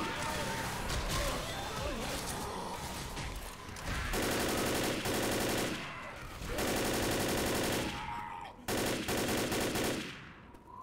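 Bursts of automatic gunfire from a tank-and-infantry shooter game come in three long sustained volleys separated by brief pauses, loud and dense, with earlier scattered shots underneath.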